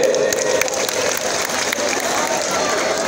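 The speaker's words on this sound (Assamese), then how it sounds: "আপোনালোকে নিজৰ কাৰণে এবাৰ হাত চাপৰি বজাওক সকলোৱে" Sustained applause from an audience at a public meeting in Hajo, steady dense clapping throughout with faint crowd murmur underneath.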